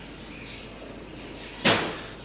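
A single sharp, noisy sneeze bursts out close by after a stretch of faint chirping birds in the background.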